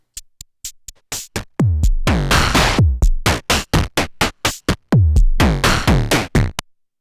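Crisp, noisy hi-hat hits made from an angle grinder noise synth patch with a short envelope, in a steady pattern, short sharp ticks alternating with longer open washes, loud and close with no voices.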